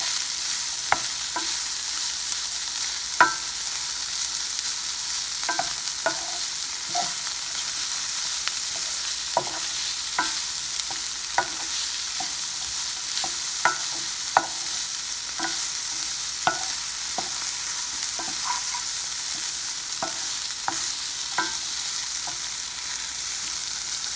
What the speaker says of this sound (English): saute this until the onions are a little translucent and the Spam looks like it's all fried up